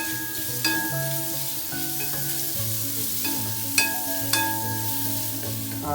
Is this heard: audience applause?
no